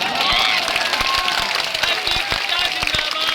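Dense crowd clapping at an open-air political rally on a village high school ground in Bihar, a steady wash of applause with scattered sharp claps, loud and continuous throughout.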